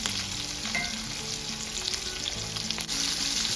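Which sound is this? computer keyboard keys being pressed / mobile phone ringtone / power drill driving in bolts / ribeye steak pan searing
ribeye steak pan searing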